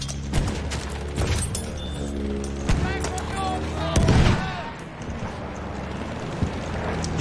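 Scattered bursts of enemy gunfire in a video game, sharp shots and rattling volleys at mid distance, mixed with engine drone and people talking.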